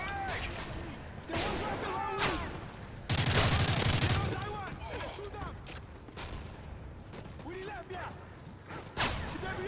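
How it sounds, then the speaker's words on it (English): M4 rifle gunfire in Modern Warfare 3, with bursts of rapid shots and a long heavy volley in the middle, mixed with game effects and someone talking over much of it. "We have to use Ramirez's famous gun, being an M4 with a holographic sight and M203 grenade launcher."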